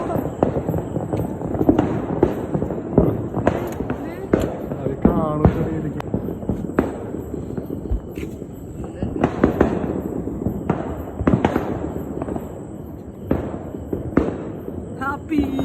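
New Year's midnight fireworks crack and pop all around, with bursts near and far in an irregular barrage, while people talk and shout under the noise.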